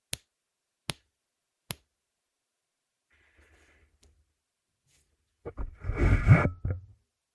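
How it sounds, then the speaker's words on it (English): Three crisp, isolated finger snaps ring out at even intervals, close and sharp, captured on a budget microphone, followed by quiet and then a longer burst of rustling and scraping. "And I snap my fingers."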